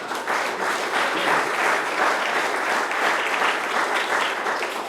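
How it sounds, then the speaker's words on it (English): Audience applause at a Silicon Slopes startup conversation event, a dense, steady wash of many hands clapping that holds loud and even for the full stretch with no talk over it. "give it a round of applause"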